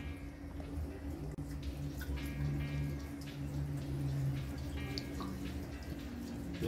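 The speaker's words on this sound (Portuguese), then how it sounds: "Bora pro segundo litro de vinagre." Vinegar poured into the fuel tank of an Intruder motorcycle, heard as a steady trickling pour with scattered drips and splashes, fairly close and continuous, with no speech.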